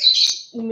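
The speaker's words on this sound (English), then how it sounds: "sorry about the birds too. It's like you can't discuss anything with them without them yelling at me." Pet birds chirp and squawk indoors in a house, a loud sustained high-pitched call with a sharp burst, followed by a lower squawking cry, close to the microphone.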